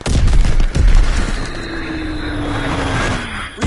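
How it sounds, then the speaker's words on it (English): Bomb blasts and heavy gunfire erupt in a World War II shooter game, with loud booming bursts at the start followed by a sustained rumbling roar and a whistling tone sweeping through. "Dropping Azon bomb."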